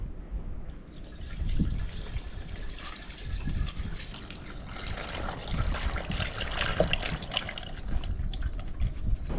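Pre-diluted John Deere Cool Guard coolant trickles and splashes steadily into a John Deere tractor's cooling system. The liquid stream is fairly faint and continuous, with small gurgles and no talking.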